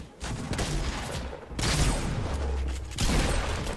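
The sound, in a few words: gunfire in a video game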